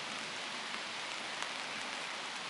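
Steady rain falls on a riverbank fishing spot in the afternoon, a continuous close hiss with a few brief louder drop taps and no talking.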